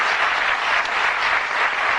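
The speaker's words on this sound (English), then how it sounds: "A nice warm round of applause" A studio audience at a 1982 Bullseye television game show claps in dense, sustained applause, loud and even throughout.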